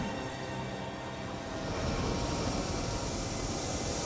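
Aircraft engine noise fills a cockpit as a loud, steady broadband roar that swells a little partway through, with no talk over it.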